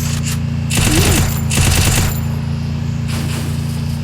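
Rapid UMP submachine gun fire in the mobile shooter Free Fire, two loud bursts of automatic shots a fraction of a second apart over a constant droning game soundtrack, with a softer burst later on.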